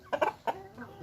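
Young roosters and chickens around five months old cluck in a small backyard poultry flock, a few quick clucks and a short trailing call close by, with no voices.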